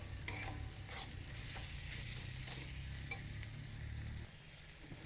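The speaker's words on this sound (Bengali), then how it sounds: "জিরে গুঁড়ো, সব রকম দিয়ে একটু নেড়ে নেব, কষিয়ে নেব।" Ground spices including cumin powder stir-fried in a pan for a Bombay duck (loitta) fish curry, a steady sizzle with several scraping strokes of a spatula, nearby and alone.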